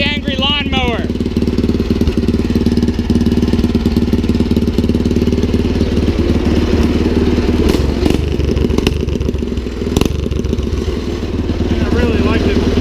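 A rat rod wagon's engine, running with the choke on, chugs loudly and roughly up close with a lawnmower-like clatter, steady throughout with a few sharp knocks; a person speaks briefly at the start.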